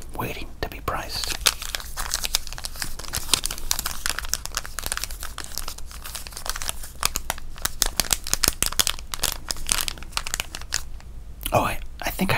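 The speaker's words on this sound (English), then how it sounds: "Let's open up this 87 tops and see what's inside, waiting to be priced." Crinkling foil wrapper and rustling cards as a 1987 Topps baseball card pack is torn open and handled, a dense run of close, crisp crackles and snaps with soft whispery noise throughout.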